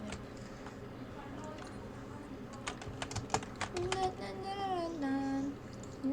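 A computer keyboard clatters in rapid, uneven bursts of key presses during a Cuphead game, sounding close and fairly loud. Spoken voices and game tones play over the clicking.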